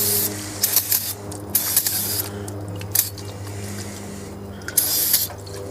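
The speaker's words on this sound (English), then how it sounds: "I'm going to shoot it with a little brake clean." Aerosol brake cleaner sprayed onto an outboard motor part, a Johnson TD 20, in short hissing bursts that come and go over a steady low motor hum in the background.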